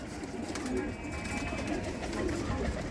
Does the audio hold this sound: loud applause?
no